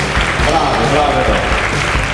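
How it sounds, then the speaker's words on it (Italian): An audience at an Italian regional beauty pageant final applauds with dense, sustained clapping that fills the hall, while voices carry through underneath. "la musica devono essere i vostri applausi per loro"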